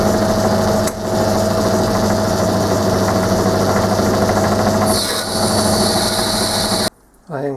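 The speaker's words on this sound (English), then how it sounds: "I can do this, because the lathe does it automatically for me." A metal lathe feeds automatically while machining a crank bearing support, giving a steady, loud mechanical hum with a constant whine. A brief higher hiss joins near the end before a short drop.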